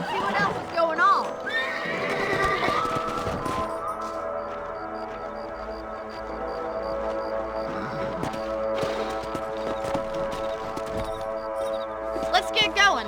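Horses whinny and neigh in the Western video game Red Dead Redemption, with light clip-clop of hooves, tonal game music underneath and occasional voices talking.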